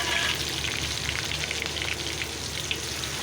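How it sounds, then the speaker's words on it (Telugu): Onion, a green chilli and curry leaves fry in oil under a pan lid, giving a soft, steady crackle and sizzle with scattered pops, faint and continuous with no talk. "ఇప్పుడు ఉల్లిపాయ, ఒక పచ్చిమిర్చి, కరివేపాకు అది చిట్పటాన్ని పైన పడుతుందని మూత అట్లా వేసేసాను"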